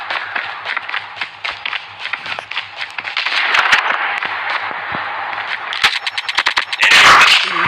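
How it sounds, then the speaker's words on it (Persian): Rapid automatic AK47 fire in the mobile shooter game Call of Duty Mobile, loud and close, with dense bursts of repeated shots running almost continuously and a harsher, louder burst near the end. "گانه بعدی گانه AK47 هست که من لژندش آوردم"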